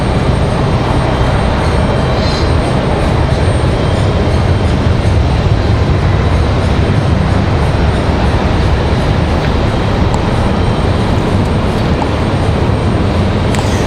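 A CRJ regional jet landing at Raleigh-Durham airport, heard as a steady, loud broadband roar that holds at the same level throughout with no talk over it.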